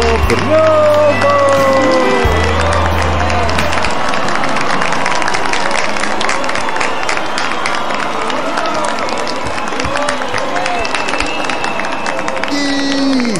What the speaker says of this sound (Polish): A kiedy skończyła śpiewać, rozległy się ogromne brawa!